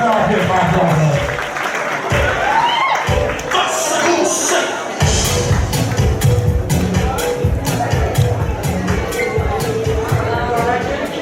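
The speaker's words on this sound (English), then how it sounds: "Let's give him a big round of applause." An audience at a fashion and award show claps loudly, with a brief lull before a second burst of sustained applause, while a voice talks over the crowd.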